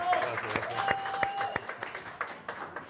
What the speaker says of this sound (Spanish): Un aplauso para Bernardo Fontaine,